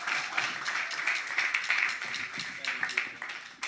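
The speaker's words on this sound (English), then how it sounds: "So I want to give a big round of applause for Precious and Bricky of Mr. OK's Essentials." Audience applause at a live Portland show: rapid clapping spread across the whole moment, with voices in the room talking over it.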